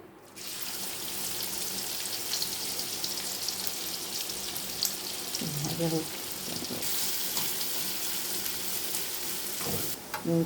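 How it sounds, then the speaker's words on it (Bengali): Chopped onion frying in oil in a wok, a continuous close sizzle and crackle lasting throughout, with a few brief clinks and stirring sounds midway and no talk. "এবার মা কড়াইতে আলাদা করে তেল দিয়ে দিয়েছে, আর চলে যাচ্ছে পেঁয়াজ কুচি।"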